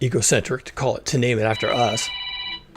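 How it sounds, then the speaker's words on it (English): A mobile phone rings with a sustained electronic tone entering midway and continuing alone after a man's speech ends. "Sorry, that's my phone."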